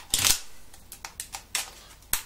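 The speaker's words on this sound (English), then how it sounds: "if we just cut open the small one, okay, famous scissors" Scissors cutting open small product packaging, giving a quick cluster of sharp snips followed by several separate crisp cuts and crinkles, close and fairly loud with no talking.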